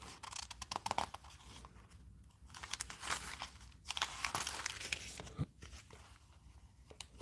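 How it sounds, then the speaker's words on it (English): Crisp paper crinkling and rustling as pages are turned, several soft flips and crackles close by with no talking. "I just like to hear the pages turn."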